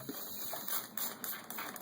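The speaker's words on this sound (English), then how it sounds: "I'm just gonna spray it down just a little bit" A spray bottle mists water inside an adult leopard gecko tank, giving several quick, soft hissing spritzes in a loose rhythm, faint and close with no voices.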